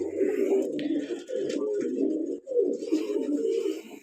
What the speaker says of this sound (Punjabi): ਪੂਰੀ ਗਰੰਟੀ ਵਾਲੇ ਜਾਨਵਰ ਆ ਬਾਈ ਆਹ ਦਾ ਕਬੂਤਰ